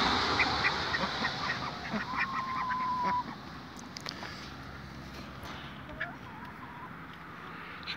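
Ducks at a poultry farm quack and honk in a noisy, continuous outdoor chorus, with scattered calls rising over a steady background din.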